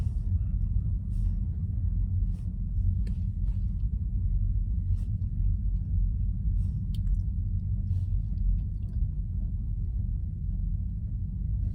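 A car passes by a trackside railfanning spot, a steady low rumble that holds throughout with faint ticks and clicks above it, no voices.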